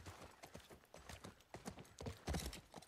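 Horse hooves clip-clopping in the video game The Last of Us, a quick run of crisp, close hoof strikes in an uneven trotting rhythm, fairly faint in the game mix.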